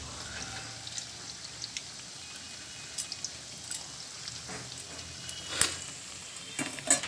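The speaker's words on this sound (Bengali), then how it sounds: "এখন এখানে পুলি পিঠে ভাজা হচ্ছে" Puli pithe, sweet rice-flour dumplings with mung dal filling, frying in hot oil in a home kitchen, a faint continuous sizzle with occasional soft pops and clinks, fairly distant and low in level.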